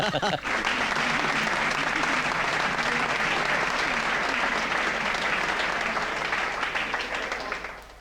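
An audience gives sustained, loud applause for performers at a show. The clapping is dense and unbroken for several seconds, with voices mixed into the crowd noise, before fading at the end.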